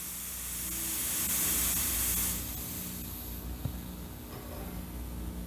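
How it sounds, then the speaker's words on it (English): An airbrush gun releases a loud, steady hiss of pressurized air for about two seconds, then drops away to a quieter background hum with a single faint click. "now listen to the air pressure"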